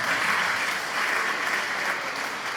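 A crowd gives sustained, dense applause, many hands clapping together at a fairly loud, even level for the whole stretch.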